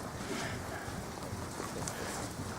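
Horse hooves in a riding lesson at a sitting trot, a steady, quick clip-clop of hoofbeats close by under broad arena noise, with no voice over it.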